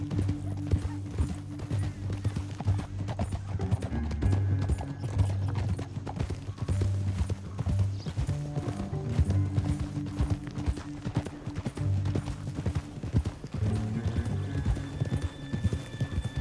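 Steady clip-clop of horse hooves trotting along in the video game Red Dead Redemption 2, with a low sustained drone of game music underneath; a horse whinnies faintly at times.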